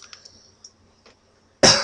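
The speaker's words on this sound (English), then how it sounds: "because I get a cough" A single sharp, loud cough bursts out at the end after near silence with faint small noises.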